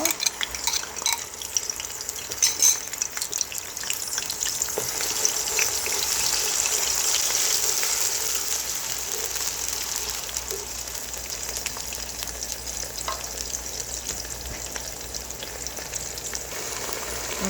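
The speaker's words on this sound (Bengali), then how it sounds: "পেঁয়াজটা ভাজা ভাজা করব।" Onion paste frying in a cup of oil for chicken korma, a steady close hiss and crackle that swells midway and continues evenly with faint stirring, no voices.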